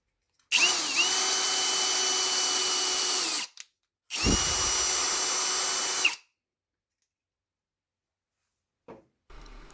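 A power drill whirs steadily for about three seconds, stops briefly, then runs again for two more seconds, close and loud, before quiet, enlarging screw holes for a filament spool.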